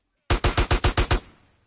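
A rapid burst of seven loud automatic gunshots in the video game GTA San Andreas Remake, evenly spaced and close, ending in a short fading echo.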